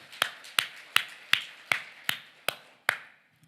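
A church congregation at a festival worship service in Gimpo claps in unison, about eight sharp, evenly spaced claps with short echoing tails, each ringing out alone before the clapping stops.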